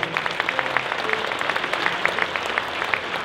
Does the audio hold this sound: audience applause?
yes